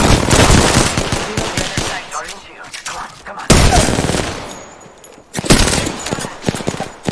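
Automatic weapons fire in the shooter game Apex Legends: loud, close bursts of rapid shots separated by short pauses, with quieter stretches between the volleys.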